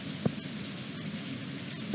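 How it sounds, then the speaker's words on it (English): Steady game rain falls in Stardew Valley as a dense, even hiss, with a couple of soft low thumps, and no one speaks. "why are you standing outside in the rain?"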